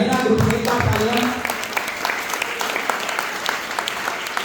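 Audience applause for children named in turn at a Jain group's stage event, a burst of clapping that swells at the start, then thins to scattered claps with crowd noise and a voice over it.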